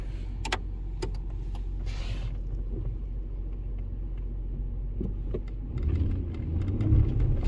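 A 2011 Ford Ranger 4.0 4x4 pickup with 99k miles shifts into four-wheel drive while driving, a steady low engine rumble with a few faint clicks, swelling louder near the end as the truck pulls.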